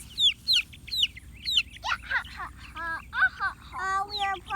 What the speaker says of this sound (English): These chickens can bark so loud that it can hurt our ears.